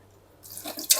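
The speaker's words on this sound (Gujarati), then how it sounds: "હવે આપણે આ બટેકાને ધોઈ લઈએ જેથી તેમાં સ્ટાર્ચ હોય એ નીકળી જાય." Water runs into a bowl of grated potatoes as they are rinsed to wash away starch, starting near-silent and swelling into a close splashing gush.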